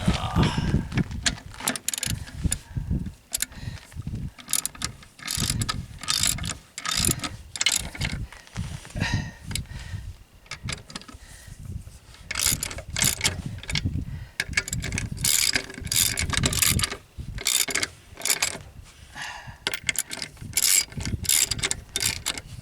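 A ratchet socket wrench loosens the lug nuts on small wheel rims at sand dunes. Rapid, loud clicking ratchet bursts repeat in quick runs with short pauses, close up, with no talking.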